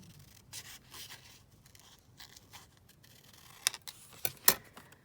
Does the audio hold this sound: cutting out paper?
yes